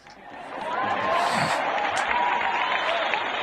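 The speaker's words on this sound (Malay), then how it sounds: "Satu lagi tepukan gemuruh bagi saya." An audience at a Douglas Lim stand-up comedy show breaks into applause that swells within the first second and then holds steady, with some cheering mixed in.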